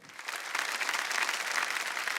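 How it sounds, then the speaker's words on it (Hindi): Enthusiastic studio audience applause at the Aap Ki Adalat 21st anniversary show swells quickly and holds steady, a dense wash of many hands clapping together. "एक बार जोरदार तालियां बजाए"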